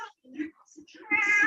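A pet cat lets out a couple of short meows close by, followed by a louder, drawn-out meow, with a person talking around it.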